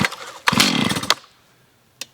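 A Stihl MS 391 chainsaw fires up and buzzes loudly and close for well under a second, then drops off abruptly, followed by one brief sharp blip.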